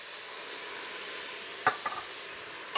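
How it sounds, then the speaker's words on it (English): Roasted vegetables for a vegan soup sizzle steadily in a hot pot over high heat, with a few close, sharp spoon clinks and scrapes as they are stirred, quiet overall. "We're gonna turn the heat up to high and stir these for another about 5 minutes or so"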